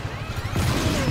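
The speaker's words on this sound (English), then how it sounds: "Wow, the explosions are crazy." A loud explosion in the video game Just Cause 3 erupts partway through, a broad crashing burst that swells into a sustained roaring rumble.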